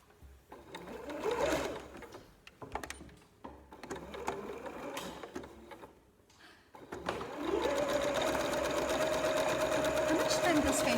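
A sewing machine stitches lace onto T-shirt fabric, its motor whirring in short bursts and then running steadily up close, while people talk over the first part.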